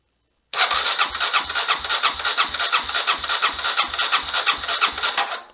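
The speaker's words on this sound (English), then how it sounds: "It's cranking over nice." A Kawasaki Super Sherpa 250 dual-sport motorcycle engine cranks over steadily after a short silence, a close, loud, rhythmic chugging of evenly spaced compression pulses that never catches.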